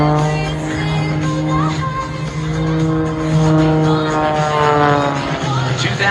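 Zimco Edge 540 aerobatic propeller plane performing at an air show, a loud sustained buzzing drone whose pitch rises and falls as it maneuvers, heard steadily throughout.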